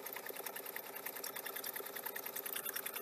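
A four-thread sewing machine, five years old, runs continuously with a fast, even mechanical whir and rattle. It is loud and close, with no talking.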